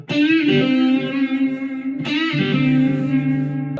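Distorted electric guitar phrases with string bends and hammer-ons, notes bending up in pitch, two sustained phrases separated by a fresh attack, ringing with a touch of reverb.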